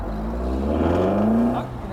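An Alfa Romeo Giulia GTA is driven fast, its engine note droning loud and near and climbing briefly as it accelerates.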